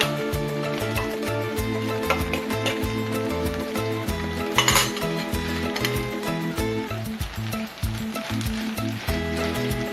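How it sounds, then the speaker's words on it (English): 500 grams of ground beef goes into a pan of tomato sauce for arroz a la cubana, a steady sizzle and simmer with scraping stirs, mixed with prominent rhythmic background music. "Now we're ready to add our 500 grams of ground beef."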